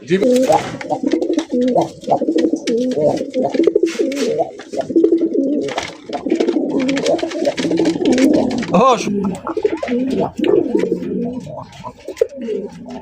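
A male pigeon coos nearby in repeated low throaty phrases at a pigeon farm, with other birds faintly in the background.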